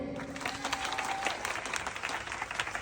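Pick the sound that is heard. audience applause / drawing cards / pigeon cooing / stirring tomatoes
audience applause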